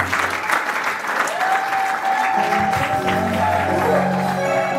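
A congregation at a church wedding blessing applauds, dense steady clapping filling the room for the whole stretch, with a sustained sung or voiced tone rising over it partway through.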